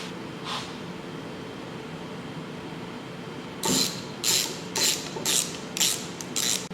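A wrench ratchets bolts snug on the engine plate of a Polaris 700/800 engine, a run of six quick, close clicking bursts after a quiet stretch with one faint earlier click.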